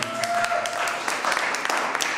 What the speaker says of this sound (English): clap if you love your president